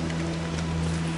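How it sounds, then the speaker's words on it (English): Steady rain falls in the video game Don't Starve, a continuous even hiss with low droning tones beneath, sustained without break and no talk. "Naked Wolfgang in the rain"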